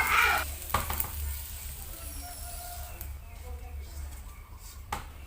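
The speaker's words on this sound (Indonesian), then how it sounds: "Kalau aku sih sukanya kalau goreng cabai kayak gini nggak perlu pakai minyak banyak-banyak" Chilies fry in a small amount of oil in a pan, giving a steady low sizzle with a few sharp clinks from stirring near the start and end.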